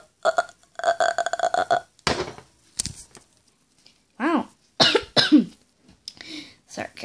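A person coughs and clears their throat in several harsh bursts, close and fairly loud, with a short voiced sound at the start and quieter breathy noises between the coughs.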